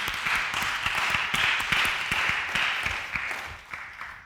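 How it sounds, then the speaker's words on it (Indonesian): Church congregation in Tokyo applauding friends during a worship service, a dense, sustained roar of many hands clapping with sharp individual claps standing out, fading slightly toward the end. "Tepuk tangan dulu dong untuk teman-teman kita"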